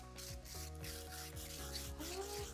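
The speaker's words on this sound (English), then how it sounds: "we are going to work with a 100 grit piece of sandpaper and just lightly sand on top of the texture" Light hand sanding of a painted texture with 100-grit sandpaper gives a soft, steady rubbing rasp, heard under a continuous musical backing.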